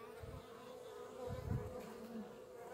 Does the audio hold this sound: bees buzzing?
yes